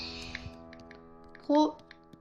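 Taps on an Android phone's on-screen keyboard as a folder name is entered, light scattered clicks with a brief louder tonal blip midway, close and fairly quiet.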